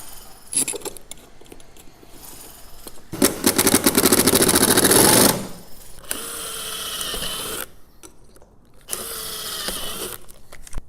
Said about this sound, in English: We'll pre-drill through the plexiglass there and put in our remaining screws.